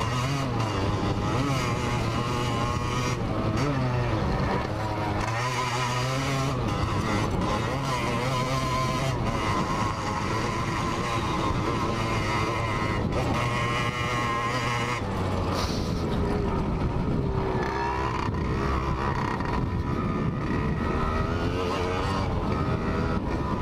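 A Yamaha DT200R two-stroke motorcycle engine revs and buzzes continuously as it rides, shifting pitch up and down with throttle changes, loud and close throughout.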